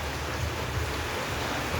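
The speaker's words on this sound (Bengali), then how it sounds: "কিছু দেখা যাচ্ছে না এত বৃষ্টি" Heavy rain pours down over a flooded road and drains near houses as a dense, unbroken rushing hiss, loud and steady throughout the short stretch with no voices.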